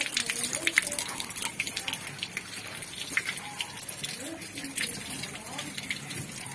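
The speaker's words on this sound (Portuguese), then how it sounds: "Passar uma água na minha mão, porque mão suja não presta pra mexer com as coisas" Hands are rinsed under running water, a near, irregular gush and splatter from a tap that shifts as the hands move through the stream, with people talking over it.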